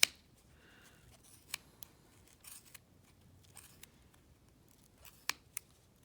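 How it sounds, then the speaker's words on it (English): Scissors snip through yarn wound on a pom-pom maker in quiet, scattered cuts, each a short crisp click, close and soft with nothing else heard. "see how your scissors can go into that groove to be able to cut through."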